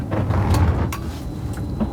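Doors on a passenger train close and lock before it leaves: a steady low rumble with a soft sliding whoosh and a faint click, heard close inside the train without talk.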